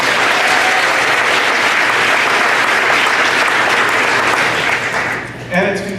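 Sustained loud applause from a live audience at a motivational talk, dense steady clapping for about five seconds before it thins out and a voice cuts in at the end.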